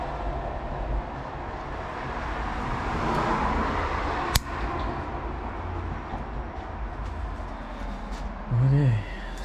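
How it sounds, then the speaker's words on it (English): Cars pass on a busy main road near a home garden, a continuous low rumbling roar of traffic that swells and fades in the background, with a brief sharp knock and a short rising whine near the end. "Cars are just passing through"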